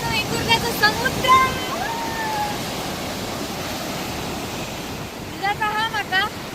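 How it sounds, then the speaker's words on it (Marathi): Sea waves wash continuously onto Vengurla beach with a broad, steady roar and wind rumble, while birds chirp faintly in short bursts near the start and end. "मंडळी बघा आमचं वेंगुर्ल्याचं समुद्र."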